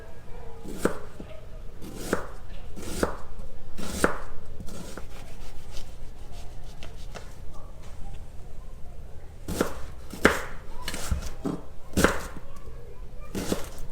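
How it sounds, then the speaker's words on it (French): Onion being sliced on a cutting board for Spanish tortilla, sharp knife chops in irregular bursts of several strokes separated by pauses, close, with faint background murmur. "Puis on découpe l'oignon"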